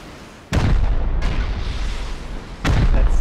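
In the video game Rust, an incendiary burns off during a big raid, heard as loud booming bursts that roll into a sustained roaring hiss, with a second blast hitting near the end; no one speaks.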